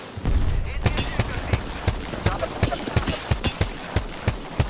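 Gunfire in Apex Legends, a volley of sharp individual shots at irregular intervals, some heavier booms among them, fairly close and loud over a busy background of game noise.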